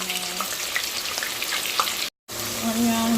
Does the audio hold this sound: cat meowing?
no